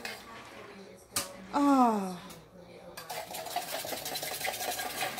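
A spoon stirs sugar into a cup of Cuban coffee, making quick, close clinks and scraping swirls against the cup's sides. A short exclaimed voice comes in partway through.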